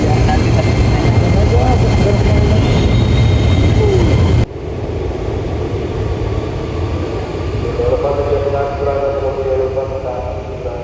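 A train at Manggarai railway station gives a loud, dense rumble for about four seconds, then cuts to a quieter, steady station din with faint voices underneath.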